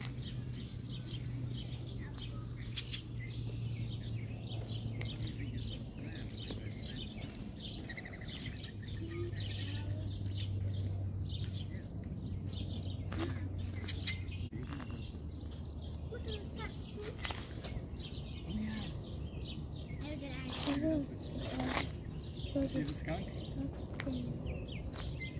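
Birds chirp and call intermittently around a lakeside park during a spring bird festival, with scattered bright tweets near and far over outdoor ambience, some low hum, and people talking at times.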